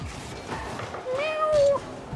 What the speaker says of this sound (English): Meow. What do you want, kitty?